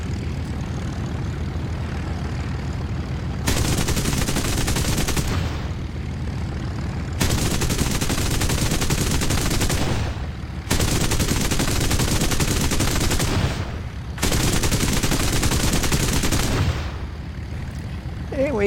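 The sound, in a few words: P-38E machine guns firing in video game War Thunder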